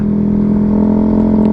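An automatic scooter fitted with an SC Project full-system racing exhaust idles close by, giving a loud, steady, throaty drone with no speech.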